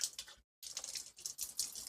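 Hot water runs from a tap in uneven splashy bursts, briefly cut off once, then flowing on close by and fairly quietly.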